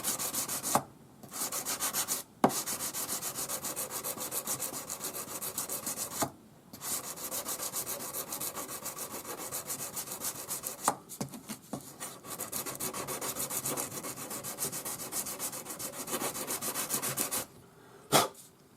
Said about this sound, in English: And we want to sand this until there's no visible join.